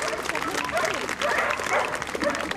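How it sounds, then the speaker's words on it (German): An outdoor crowd at an autumn festival applauds after a British herding dog group demonstration, with dogs barking and yipping through the steady clapping and a voice talking over it. "kräftigen Applaus für die Gruppenarbeit"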